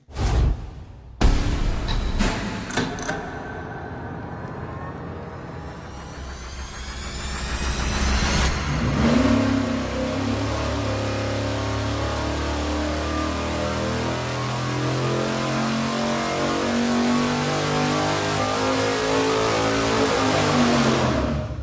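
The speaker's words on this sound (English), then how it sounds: "we're gonna fire it up and run it with no air filter on it at all" Carbureted V8-type engine on a dyno running with no air filter on an open carburetor, starting after a brief gap and building into a loud, sustained full-throttle roar that holds steady for a long pull.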